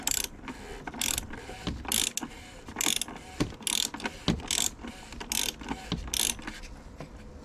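Rhythmic ratcheting clicks of a torque wrench set to 25 Nm during an oil service on a BMW F06 640d, coming in repeated short bursts, close and fairly loud.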